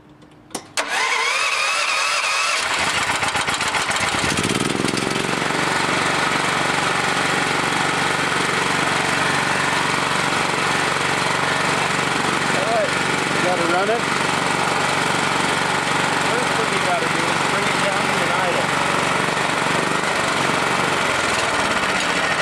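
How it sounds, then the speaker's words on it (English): A tri-fuel generator engine cranks a few times and then catches, settling into a loud, steady running drone that continues without pause. "let's start it up and try it."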